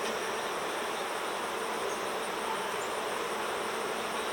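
Honeybees at the hive of a queenless cutout colony give off a steady, dense buzz that holds evenly throughout, close and continuous.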